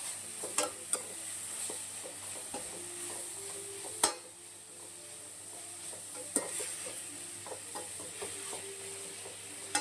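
Carrot poriyal with salt is stirred in a frying pan, a soft sizzle underneath with occasional sharp spatula knocks against the pan, close and unaccompanied by speech.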